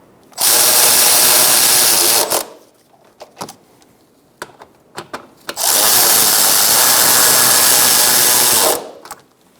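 Two long, loud bursts of a power tool snugging bolts on the cooling fan assembly of a 2012-2017 Hyundai Accent, separated by a few seconds of small clanks and handling noises.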